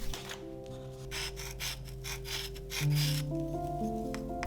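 Sharpened chalk scratching and rubbing across dark velvet fabric while pattern pieces are traced, a close series of short scraping strokes with no talking.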